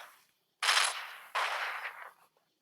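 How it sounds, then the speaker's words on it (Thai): Rapid automatic gunfire from a video game, two loud sustained bursts separated by a short pause, with no voices. "อันนี้ปืนรัวไม่ใช่เหรอ"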